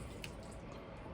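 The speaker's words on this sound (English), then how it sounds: "juice and all with the pineapple chunks, and just pour it all in there" Canned pineapple chunks and their juice pour into a bowl in a steady, close liquid splash, with a brief bright drip near the start.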